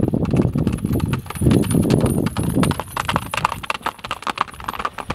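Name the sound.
horse hooves clip-clopping while being ridden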